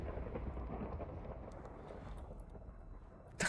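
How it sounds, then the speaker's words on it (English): Lightning thunder from a Minecraft mod rumbles as a steady, dense low roar across the whole stretch, with a sharp crack bursting in at the very end. "Double lightning is always fun."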